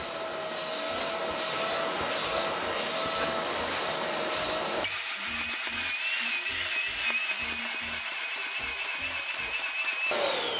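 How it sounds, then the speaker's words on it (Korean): A wet vacuum roars steadily, its pitch shifting midway as it gulps up water from a toilet bowl during limescale cleaning, with a gurgling, sputtering pulse; no one speaks. "물을 빨아들이는 거죠."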